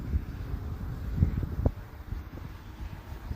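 Steady wind rushing and buffeting across an outdoor microphone on a hot day at an RC flying field, a low continuous roar with a few gusty bumps and no speech.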